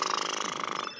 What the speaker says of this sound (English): Because you're a loud ass purr